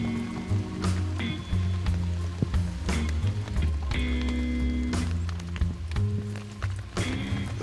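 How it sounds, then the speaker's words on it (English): Rain patters on surfaces outdoors, with irregular drips and taps over a soft steady wash, fairly quiet and close. "it's raining"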